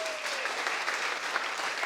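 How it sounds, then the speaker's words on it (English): Steady applause from an audience fills the room, a dense wash of clapping hands at moderate volume. "can we give Meg a massive round of applause for coming up?"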